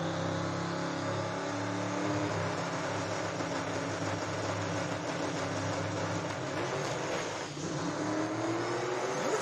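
Chevy II hot rod with a small-block-style drag race engine droning steadily and loudly at a Lights Out event, continuous mechanical roar with a brief dip near the end.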